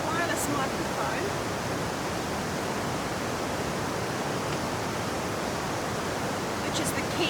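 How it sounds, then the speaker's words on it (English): Steady, loud broadband rush of a river flowing right beside a campsite in heavy rain, continuous and unbroken from start to finish, with no clear voices over it. "I have to apologise for the sound of the river"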